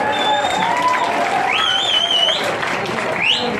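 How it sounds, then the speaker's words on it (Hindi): Dense crowd applause fills a welcome event for minister Dada Bhuse in a Muslim neighbourhood of Malegaon during Ramzan, steady and loud throughout, with rising whistle-like tones and voices sliding over the clapping. "तालियां होनी चाहिए।"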